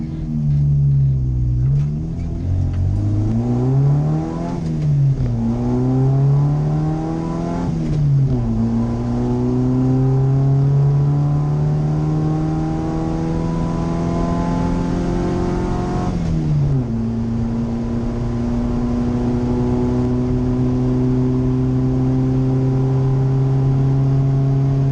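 A race car engine roars continuously, its pitch rising through several gear shifts as it accelerates, then settling into a steady high drone.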